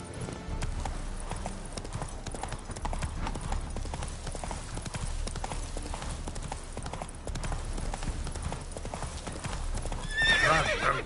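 A horse galloping in the video game The Witcher 3: a continuous rapid clatter of hooves, with a whinny near the end.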